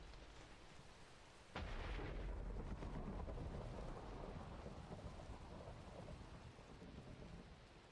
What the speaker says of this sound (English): I don't think rain messes up redstone.